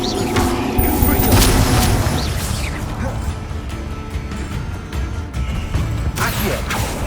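A Confringo fire spell explodes in the video game Hogwarts Legacy, a loud booming blast with crackling bursts and rumbling game effects that sustain for several seconds, with a second burst toward the end.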